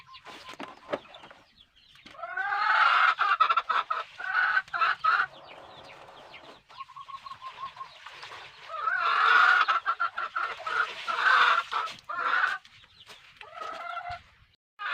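Backyard pet chickens cluck and squawk in loud, repeated bursts with short pauses between them, heard up close with no voices.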